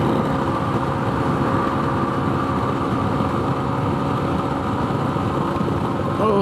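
A Honda scooter engine on the highway drones at full throttle, a steady loud buzzing whine that stays constant without letting up.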